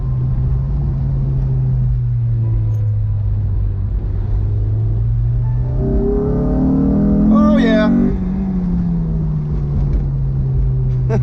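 Honda S2000 with an aftermarket intake, engine droning steadily at cruise then revving up sharply with a rising intake howl, loud and close from inside the car, with a voice faintly underneath.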